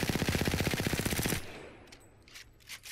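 A rapid, steady burst of CAR SMG fire in the Apex Legends firing range, aimed down the sights, lasts about a second and a half before cutting off. Faint clicks and shell clatter trail in the quiet afterward.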